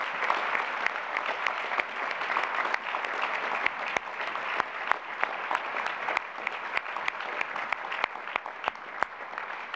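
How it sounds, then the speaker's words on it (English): Sustained audience applause at a presidential inauguration ceremony, an even roar of many hands with sharper individual claps popping out near the microphone, moderately distant and uninterrupted. "So one more round of applause"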